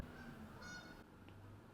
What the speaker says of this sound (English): did you just hear that goose?